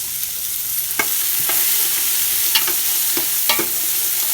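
Butter melting and being stirred into a soup pot on the stove for potato soup, a steady soft sizzle with a few distinct spoon scrapes against the pot, close and alone without talk.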